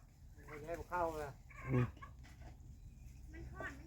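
Hens cluck in short bursts close by, mixed with quiet background voices and farmyard noise.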